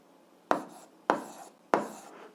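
Pen strokes writing numbers by hand while solving an algebra proportion problem: three short scratchy bursts, each starting sharply and trailing off, close and quiet with no talk.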